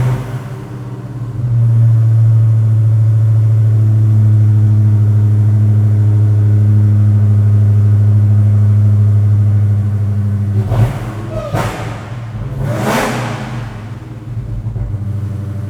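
A 2020 Dodge Charger Hellcat Widebody's supercharged V8 fires up and settles into a loud, deep, steady idle, then is blipped into two sharp, roaring revs near the end, heard close with no talking.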